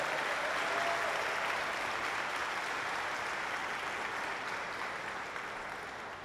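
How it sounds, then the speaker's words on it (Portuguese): Sustained applause fills a hall at a political launch event welcoming a female senator, with a dense, steady crowd clapping throughout that tapers slightly near the end. "senadora da República, Damares Alves, uma salva de palmas, por favor."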